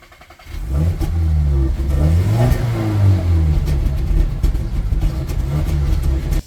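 A Volkswagen Group diesel car engine cranks and catches, then revs up and settles into a loud, steady running drone, recorded close with no talking.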